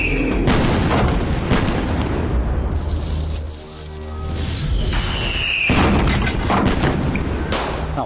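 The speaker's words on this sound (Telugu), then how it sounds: "టపాకాయలు చప్పుడురా." Firecrackers burst in rapid, dense volleys of booms and cracks during a festival scene in a Telugu action film, loud and continuous with a brief lull in the middle before the barrage resumes.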